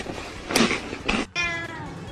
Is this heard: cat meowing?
yes